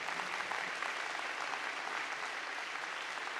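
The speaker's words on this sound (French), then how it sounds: "Je pense qu'on peut applaudir" Audience applause at a French town's New Year greetings ceremony, a continuous even round of many people clapping for a few seconds, fairly distant and steady.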